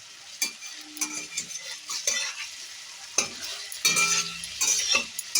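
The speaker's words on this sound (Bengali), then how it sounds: "কড়াইতে সামান্য পরিমাণ হোয়াইট অয়েল দিয়ে গরম করে নিয়েছি। এবার ম্যারিনেট করে রাখা চিকেনটাকে দিয়ে দিচ্ছি।" Marinated chicken fries in a little hot white oil in a wok, giving a crackling sizzle broken by scraping stirs and occasional sharp utensil knocks against the pan.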